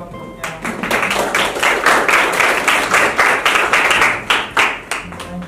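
A classroom of students claps for a student group during a teaching-practice session, with dense, rapid hand claps that build to a steady, lively round and then thin out near the end.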